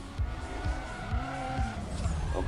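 Race car engine from the Need For Speed ProStreet video game revving hard as it accelerates, loud and continuous with rising engine tones and tire squeal, close up and alone without talk.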